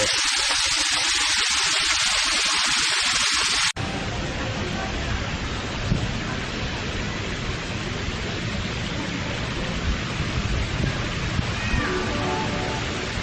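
Water rushes steadily from a waterfall in a miniature model town in Pattaya, Chonburi, heard from behind the falls. It is a constant, full roar with an abrupt change in tone a few seconds in, and no talking.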